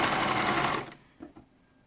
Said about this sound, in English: I'm going to be sewing all around that way.